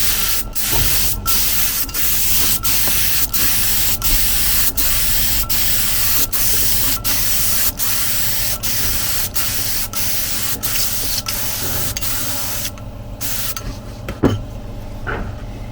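An aerosol spray can lays a second coat of paint onto a surface in a string of short hissing bursts, close and fairly loud, with no talking.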